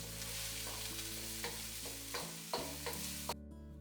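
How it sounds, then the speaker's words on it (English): A small white onion sautés in oil in a wok, a soft continuous sizzle punctuated by regular stirring scrapes and taps, close and quiet. "add 1 small white onion and saute for about 2 to 3 minutes"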